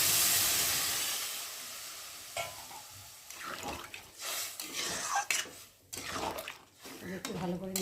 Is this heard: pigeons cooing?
no